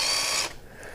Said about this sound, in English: so let's just drill it here.